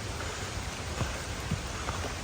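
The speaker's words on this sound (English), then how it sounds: "it's starting to rain a little bit" Light rain falling around a hiker on the climb from Katahdin Stream Campground toward Baxter Peak, a soft steady patter of drops with faint scattered taps, fairly quiet throughout.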